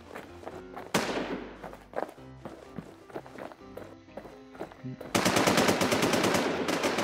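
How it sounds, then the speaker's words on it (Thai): Rapid bursts of automatic gunfire and single shots ring out in the Infestation The NewZ battle royale game, mixed with running footsteps, and build into a dense, loud, sustained volley of shooting toward the end. "โอ้ยิงกันลั่นเลยวะ"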